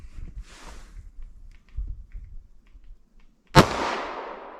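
One sharp, loud shot from a 3.2-inch-barrel Taurus G2C pistol firing 9mm +P Corbon Glaser Safety Slug ammunition, with an echoing decay, after a few seconds of low outdoor rumble and handling noise.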